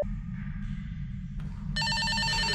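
A telephone rings inside the Backrooms video game, its bright electronic trill starting partway through and growing louder over a steady low rumbling hum.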